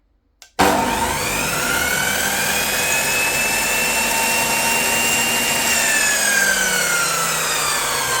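A mitre saw switches on with a click and ramps up through a soft start to a loud, steady whine, its pitch sagging slightly as it begins to slow down near the end.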